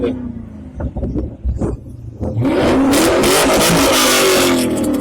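An MG ZR 160 car engine revs hard at a car meet, climbing from a low idle rumble into a loud, sustained roar that fills the rest of the clip.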